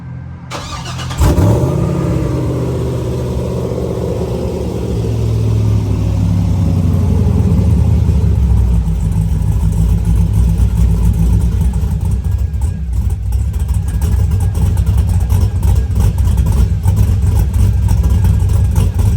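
A loud, steady LSA V8 engine rumble from a Chevy crew cab truck runs throughout, starting abruptly and holding a deep idle-like drone with slight revving swells, close by.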